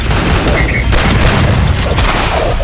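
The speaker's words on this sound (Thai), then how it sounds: "ทำระเบิดพอดีเลย" A grenade explosion in the video game Free Fire booms loudly amid continuous gunfire and rumbling battle noise, dense and sustained throughout.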